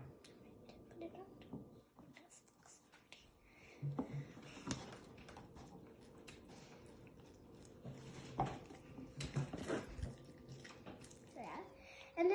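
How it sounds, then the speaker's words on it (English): Fruit rinsed under running water in a home kitchen, faint splashing and dripping with scattered clinks and handling noises, quiet and close with no talk. "don't forget to wash your fruits before it"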